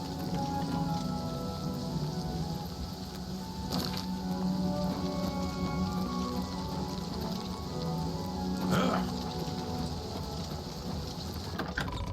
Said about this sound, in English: it's rainy and stuff right now